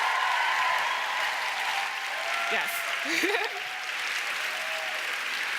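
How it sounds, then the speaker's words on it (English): Audience at a summit applauding language interpreters, sustained moderate clapping under light chatter, with a brief spoken word and a few cheers partway through. "could we give a round of applause to our amazing language interpreters?"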